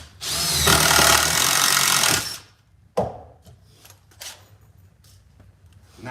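Power drill driving a screw into a countersunk hole in a board while building a stair handrail, a loud, steady whirring run of about two seconds, close up, then a sharp knock and quieter handling clatter.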